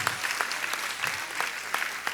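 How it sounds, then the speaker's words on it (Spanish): Steady applause from a church congregation, many hands clapping continuously at moderate volume with a few sharper claps standing out. "Vamos a darle un aplauso al Señor."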